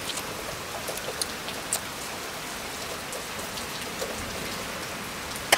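Steady light rain patters outdoors with scattered close drips and taps, a soft continuous hiss throughout and no speech.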